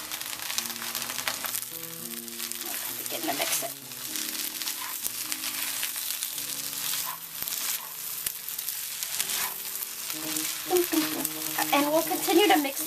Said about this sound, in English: now that we're adding the egg, we can turn the heat back up a little bit so that it cooks. Begin to mix it.